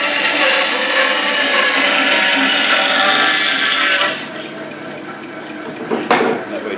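Loud, continuous buzzing of a power saw cutting through wood for about four seconds, then it stops, leaving quieter handling noises.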